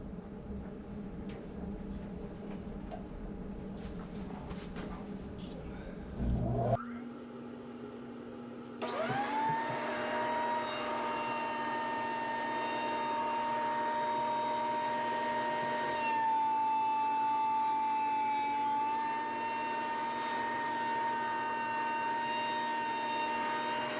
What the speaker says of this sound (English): it's really a fast process, but a loud one. This has cutting blades on the top here, and it's just going to shave a little bit off.